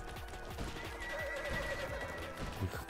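Horses neigh and whinny amid the chaotic action of the game Bounty Of One, a high wavering cry rising above dense hoof clatter, impacts and busy combat noise.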